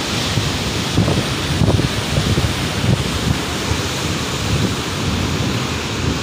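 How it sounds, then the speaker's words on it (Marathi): Strong wind buffets the microphone in steady gusts at a beach in Devgad, with a roar of surf behind it; no voices, just continuous blustery noise at the shore. "वारा मस्तच लागतो, एक नंबर वारा लागतो, एक नंबर"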